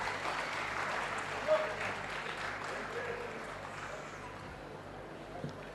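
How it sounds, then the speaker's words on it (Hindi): Steady applause from an audience at a hospital inauguration ceremony, a dense continuous patter of clapping that holds at moderate level throughout, with faint crowd murmur beneath. "आपण मानकर विपुल करताली ए मुहूर्त को अधिक स्मरणीय रखिबो।"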